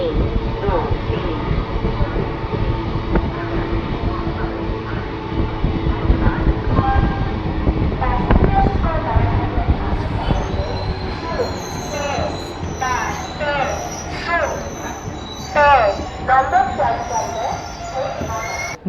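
Passenger train pulling into Madhupur junction, a loud continuous rumble of wheels and carriages with metallic squeals and screeching brakes building toward the end.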